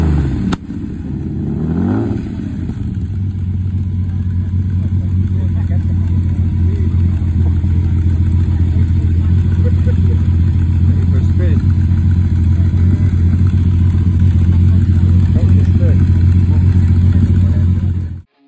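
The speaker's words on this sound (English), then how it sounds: "The Countach was powered by a mid-mounted V12 engine that could propel the car to a top speed of over 180 miles per hour." A Lamborghini Countach's mid-mounted V12 catches with a short rev near the start, then settles into a loud, steady, deep idle drone that runs unbroken to the end.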